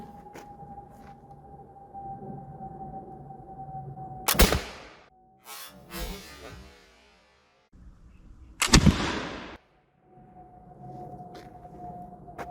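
Black powder musket firing, two loud booming blasts several seconds apart, each with a rough, spreading decay, set against a steady background hum.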